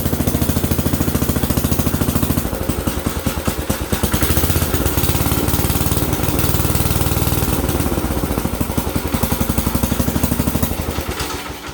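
An old Sears Suburban 12 garden tractor engine chugs close by with a rapid, rough, uneven pulsing beat, running slightly rich as if the choke were partly on, with no voices over it.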